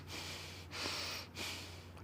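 Two forceful breaths from a person demonstrating angry breathing, each a heavy, harsh rush of air through the nose and mouth, close and fairly loud over a faint low hum.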